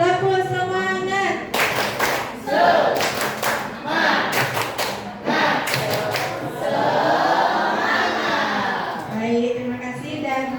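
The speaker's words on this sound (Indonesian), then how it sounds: "kita tepuk semangat lagi sekali untuk mengakhiri pembelajaran hari ini. Tepuk semangat." A classroom of pupils performs the 'tepuk semangat' clapping routine, with bursts of rhythmic group claps and thumps alternating with short chanted voices, loud and close throughout.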